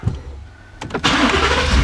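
A Ford F150 pickup truck starts up close by: a brief starter crank and whir, then the engine catches and settles into a loud, steady running rumble.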